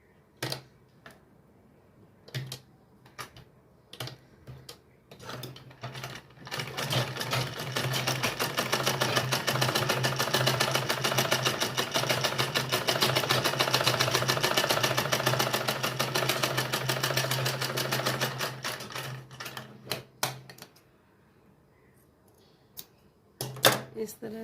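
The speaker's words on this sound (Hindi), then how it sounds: "इसी तरह से सिलाई कर देंगे हम।" A sewing machine stitches lace for a lehenga latkan in a long, steady, fast-running burst, with short start-stop clatters before and after.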